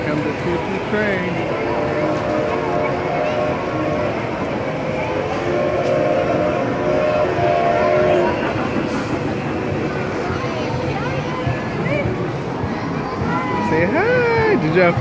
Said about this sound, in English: Here comes the choo-choo train.